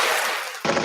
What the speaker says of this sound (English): with the gunshots